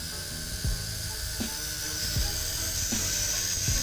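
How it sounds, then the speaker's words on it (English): Blade Zeyrok drone with a carbon fiber frame upgrade, its gears whining in a steady high-pitched drone with faint periodic ticks, close and continuous. "Kind of hear those gears winding a little bit in there."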